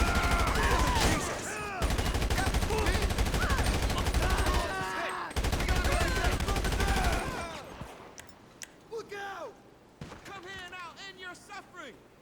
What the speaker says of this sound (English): Alright, let's start shooting.